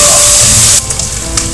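Garlic and onions saute in a pan for a Hokkien rice casserole, a loud, full sizzle that drops suddenly to a quieter crackle with a few light stirring clicks.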